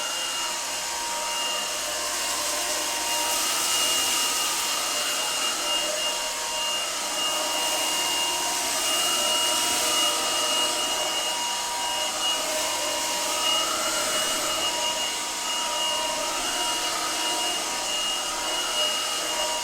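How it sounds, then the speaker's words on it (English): A Shark SV1106 cordless stick vacuum runs steadily while picking up oatmeal, a loud constant high-pitched whine and airy rush with a slight wavering tone throughout. "And you can start vacuuming."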